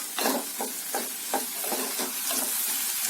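Potato pieces frying with onion in a pan for a potato, onion and raw mango palya, close sizzling with rhythmic stirring scrapes about every half second, steady and fairly loud.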